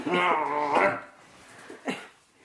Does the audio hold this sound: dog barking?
yes